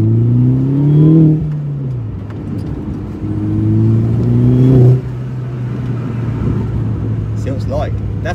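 A tuned R56 Mini Cooper S engine pulls hard in two loud rising runs, each ending in a drop as it shifts, then settles into a steadier drone with a few chirps near the end.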